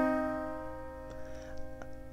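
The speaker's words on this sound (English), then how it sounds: "A minor third sounds like this." A minor third interval on a sustained, tonal instrument, the interval that opens Debussy's Clair de Lune, ringing and fading while faint ticking and rustling noises come in near the end.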